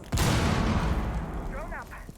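A frag grenade explodes in Rainbow Six, a sudden loud, close boom that rumbles and slowly fades, with a short burst of voice near the end.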